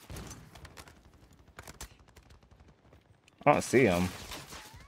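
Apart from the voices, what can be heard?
gunfire in Warzone 3 video game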